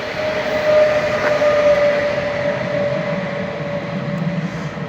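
A double-unit train arrives at Toses station in the Pyrenees, a steady loud rumble of wheels and motors holding for several seconds with a faint tonal whine above it, no voices.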